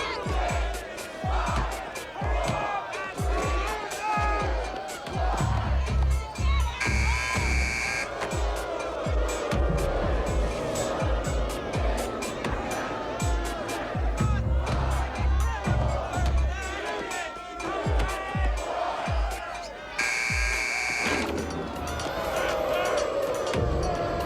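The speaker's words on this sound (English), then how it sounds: "They're booing." Basketball crowd at the LA Coliseum booing a player, a sustained roar of many voices swelling and easing over half a minute beneath close, continuous talking.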